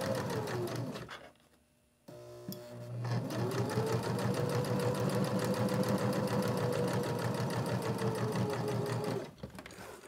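A sewing machine chain-pieces small fabric pieces for a soap holder, a fast regular stitching rattle that pauses briefly, shifts pitch, then resumes at steady speed for several seconds before stopping, heard close up.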